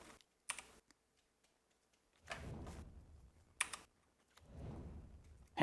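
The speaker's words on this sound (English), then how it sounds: "I'm just going to shuffle cards while I'm playing" Playing cards shuffled during a Legacy card game, with two soft riffling bursts separated by quiet stretches and a few sharp clicks, close and alone.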